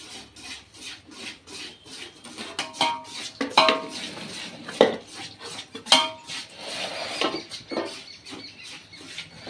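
Ariselu dough mixed with ghee and sesame seeds, stirred quickly in a pan with a utensil, giving repeated scraping and clinking strokes, close by and irregular.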